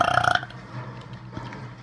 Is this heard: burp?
yes